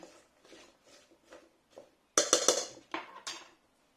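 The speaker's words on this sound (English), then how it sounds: "we're going to give it a good stir, mix it all together" A spoon scrapes and clinks in a bowl of wild garlic and shredded cabbage sauerkraut, with soft stirring rustles at first and then a brighter burst of metallic clinks and knocks near the end.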